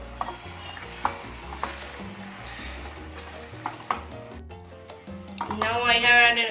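Ground curry paste and water are stirred in a pan, a spoon scraping and swishing in bursts against soft bubbling and sizzle, with a louder, busier bubbling swell near the end.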